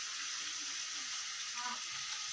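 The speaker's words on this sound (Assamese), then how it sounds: "ধুনীয়াকৈ বেতগাজ ভাজি আছে" Cane shoots sizzle steadily in a hot pan, a bright, even frying hiss that stays close and constant, with a faint voice underneath.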